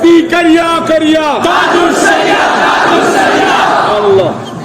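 At a religious gathering, a crowd chants religious slogans after a single leading voice, with loud massed voices roaring together and then trailing off.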